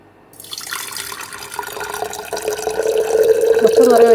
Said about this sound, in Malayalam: കുറച്ച് വെള്ളം ഒഴിച്ചു, മൊത്തം ഒഴിച്ചില്ല